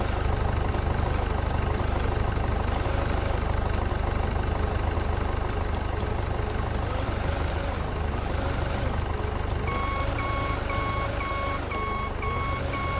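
Steady low forklift engine idle in the Beer Factory game, running close and unbroken, with a regular series of high reversing-style beeps joining in near the end.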